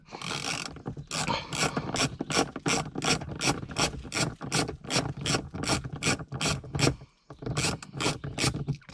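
Rapid ratchet clicking as a T20 Torx bit turns out sunroof motor screws on a Dodge Neon SRT4, steady bursts of close mechanical ticks with a brief pause near the end, no talking.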